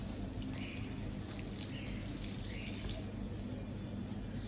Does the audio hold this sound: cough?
no